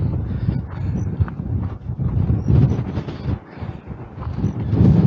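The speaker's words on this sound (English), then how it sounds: "It's extremely windy. Honestly, every now and again the gusts absolutely knock you off your stride." Strong gusty wind batters the microphone in deep, rumbling surges that rise and fall in loudness.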